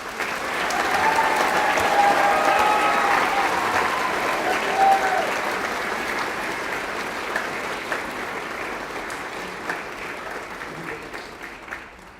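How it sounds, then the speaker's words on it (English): Audience applause at an awards evening, loud sustained clapping from a large crowd that swells early and slowly thins out over about twelve seconds. "If you would join us in giving them a round of applause."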